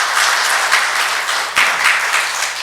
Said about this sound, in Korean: 이 수고한 모든 분들 위해서 한번 뜨거운 박수 한번 부탁드리겠습니다.